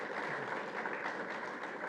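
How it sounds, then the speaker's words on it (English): An audience applauds during the Prime Minister's address at an inauguration in Trinidad and Tobago, giving a full, even burst of clapping that carries through without talk. "I think that deserves a round of applause."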